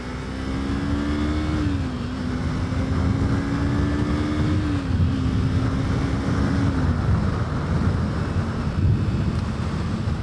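A Kawasaki Ninja 250 motorcycle engine idles in cold winter weather, a steady close drone with slight pitch dips and a few small rises, mixed with constant wind buffeting on the microphone.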